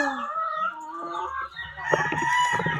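Hens clucking and a rooster crowing on a farm with around thirty laying hens, several birds close by calling in overlapping bursts, busier toward the end.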